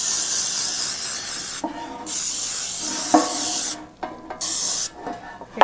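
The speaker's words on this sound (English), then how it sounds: "take your non-stick baking spray" Non-stick baking spray hisses into a loaf pan in several bursts, a long steady spray followed by shorter sputtering ones with brief gaps between, loud and close.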